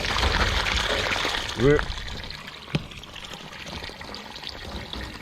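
A mixture of acid and water is poured out of a rusty Mazda RX-7 gas tank, splashing steadily before a brief gurgle, then thinning to a quieter trickle with a single sharp knock.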